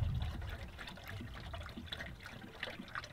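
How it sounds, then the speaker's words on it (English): A 50/50 mix of old Ford coolant and water trickles and gurgles steadily as it is poured into a car's cooling system, close by and fairly quiet. "Fill it up with coolant."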